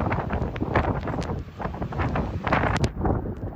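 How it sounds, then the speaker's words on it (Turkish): Strong storm wind in Elazığ around the Pertek ferry pier: steady, heavy buffeting roar with gusty rustling across the whole stretch, loud and close with no voices. "Elazığ'da akşam saatlerinden itibaren etkili olan yoğun fırtına hayatı olumsuz yönde etkiledi."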